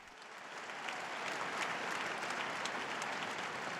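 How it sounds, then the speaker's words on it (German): A crowd at a papal general audience applauds a newly beatified woman, a broad wash of clapping that swells in the first second and then holds steady, fairly distant. "Einen Applaus für die neue Selige."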